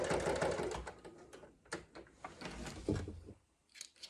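A sewing machine stitches a pinned seam forward and then back, with the needle down and the presser foot lowered. A longer whirring run gives way to several short, close mechanical bursts with brief pauses between them.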